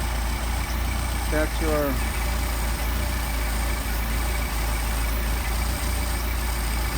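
A multi-carburetor engine fitted with Solex carbs idles steadily at around 800 rpm, a continuous low rumble with someone talking over it.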